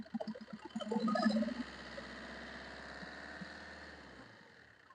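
A used Maruti Swift car with about 75,000 km on it: its engine swells briefly, then holds a steady, moderately loud idle-like hum with a faint rattle before fading slightly at the end.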